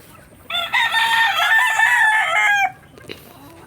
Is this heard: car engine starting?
no